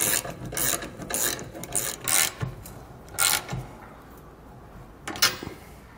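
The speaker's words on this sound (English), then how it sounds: "tighten down our hardware here for our plate and our support brace up there using a 19" A ratchet with a 19 mm socket tightens bolts on the plate and support brace of a Curt trailer hitch on a 2016 Chevrolet, giving quick clicking, rasping strokes in short bursts, close and moderately loud.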